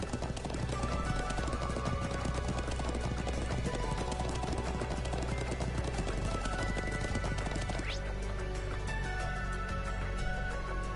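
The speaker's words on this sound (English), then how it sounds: "I'm glad I still remember how to ride a horse." Horse hooves galloping in the video game Trails of Cold Steel 2, a rapid, steady clatter of hoofbeats under dense game music, continuous and fairly loud throughout.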